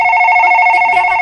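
A telephone rings with a steady electronic tone, loud and close, alone with no talk.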